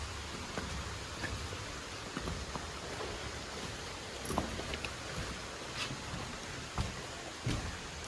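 Steady heavy rain hisses throughout at a tree-house resort near the Torsha River in Jaldapara, with scattered louder drops and occasional taps standing out from the wash of noise.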